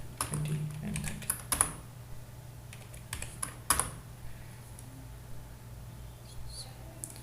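Numbers typed on a computer keyboard, a few scattered key clicks and short clusters of taps over a low steady hum, fairly quiet, with no one speaking.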